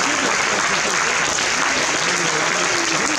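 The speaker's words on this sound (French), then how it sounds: "On peut les applaudir aussi." An audience claps for the presidents at an open-air prize-giving for the Bol d'Or sailing race in Geneva, a continuous, even patter of many hands with faint chatter blended underneath.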